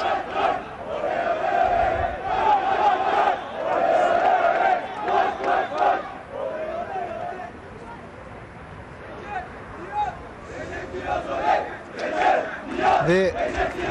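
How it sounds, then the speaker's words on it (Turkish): Fenerbahçe supporters at a Samandıra training session chant rhythmically in a crowd for the team's youngest player, Recep Niyaz, loud and sustained with swelling group voices and shouts. "takımın en genç futbolcusu Recep Niyaz için tezahüratlar."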